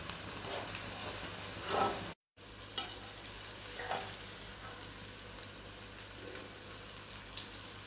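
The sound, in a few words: okra frying in oil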